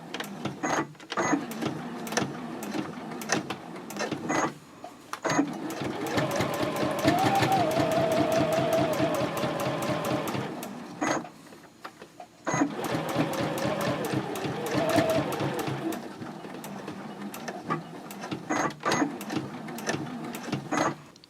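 A sewing machine runs in steady bursts, stitching a quarter inch from the raw edge of fabric for a Chatelaine purse, with a stitch length of 2.6 and back stitching at the ends. The motor hums up close between pauses and small handling clicks.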